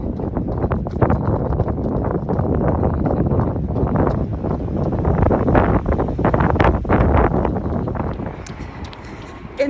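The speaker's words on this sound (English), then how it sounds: "it's a really windy day" Strong wind buffets the microphone during an outdoor run in constant, rumbling roar, gusting louder and softer over several seconds.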